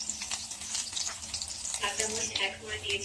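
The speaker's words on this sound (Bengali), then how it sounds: "রসুন কুচিগুলো একটু ভেজে নেব" Chopped garlic frying in soybean oil in a pan, a steady close sizzle with crackling hiss that runs unbroken throughout.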